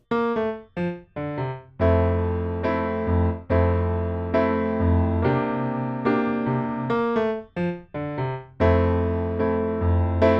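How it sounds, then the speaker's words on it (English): A piano plays a bouncy intro, a low bass line moving beneath syncopated chords in a steady, lively rhythm, loud and close with no voices. "one final super optional detail I want to include for this intro, which would be the little bass line"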